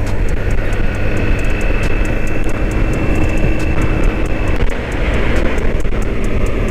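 A Kawasaki H2 motorcycle with a 200-horsepower engine and quickshifter accelerates on the road, a loud, continuous roaring engine and rushing wind noise close to the rider, with a brief dip near the five-second mark.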